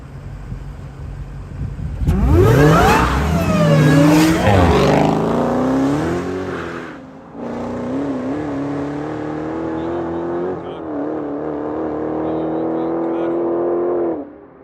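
A Dodge Hellcat and an Audi RS5 launching in a Mexico street race, engines roaring loudly with rising revs and gear-change drops, followed by a sustained high-revving pull that cuts off near the end.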